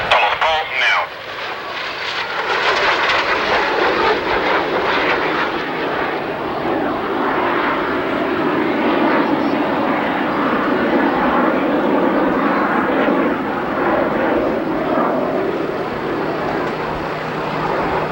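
Canadian Snowbirds jet aircraft roaring through an airshow routine, a loud sustained engine rush that swells and holds steady over the full stretch, with an announcer's voice running over it.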